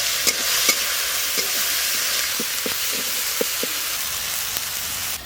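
Dried chillies, bay leaves, chopped tomato and turmeric frying with whole cumin in a pan for veg dal, a steady close sizzle with a few light taps of a spoon stirring.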